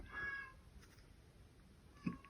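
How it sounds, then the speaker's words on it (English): A cat yells to be let back in, a few faint meows from a distance followed by a single short call near the end, alone in a quiet room. "My cat's yelling to get let back in."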